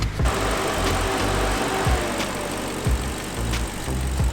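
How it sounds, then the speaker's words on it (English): An Audi R8 engine idles steadily with a low, even rumble and faint periodic ticks, close by and without any talking. "The engine seems to be running smooth."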